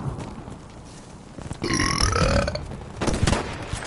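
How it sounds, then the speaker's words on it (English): One loud, close, drawn-out burp from a person playing Battlefield V, rising from a quieter background of game sound and lasting around a second, with no speech. "I burped."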